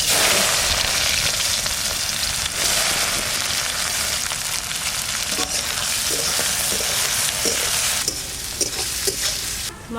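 Onions frying in hot mustard oil: a loud, steady sizzle runs throughout, with scattered stirring scrapes and clicks near the end.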